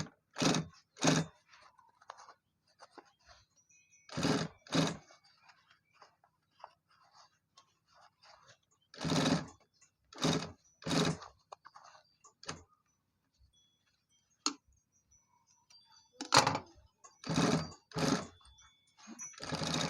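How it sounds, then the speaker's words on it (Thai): A sewing machine stitches the hem of denim jeans in short bursts of rapid mechanical whirring, separated by pauses of quiet handling, heard up close with no talking. "เพราะเราไม่ค่อยได้เย็บผ้ายีน"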